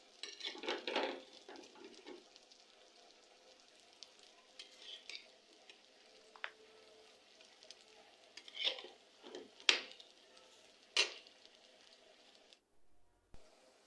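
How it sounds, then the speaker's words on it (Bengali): Lentil fritters frying in hot oil under a soft steady sizzle, with scattered scrapes and clinks as a utensil turns them over in the pan, close by with no voices. "এবার আবারও এগুলোকে এপাশ ওপাশ ফিরিয়ে ভালো করে ভেজে নিব।"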